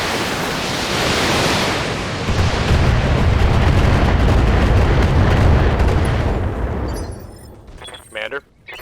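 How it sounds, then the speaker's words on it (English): Missiles launch and explode in the mech combat game BattleTech: a loud, roaring wash of blasts and rumbling impacts builds and sustains for several seconds, then breaks off into a few sharp, clipped bursts. "Have some missiles."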